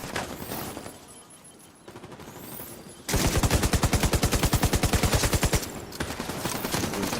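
Rapid automatic gunfire from The Division 2, a loud sustained burst of fast regular shots after a few quieter, more distant shots.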